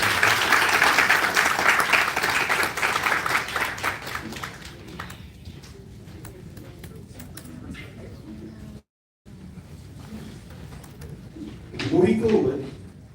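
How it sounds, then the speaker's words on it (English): A crowd at a liver transplant conference applauds. The dense, steady clapping lasts about four seconds and then fades into a quiet room, where a voice talks later on. "Guys, please give a big round of applause."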